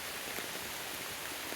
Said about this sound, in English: I'm going to get out of the rain.